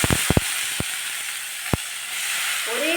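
Curry leaves and turmeric sizzle in hot oil with a steady, soft frying hiss, broken early by a few sharp crackles and pops, near and moderately loud.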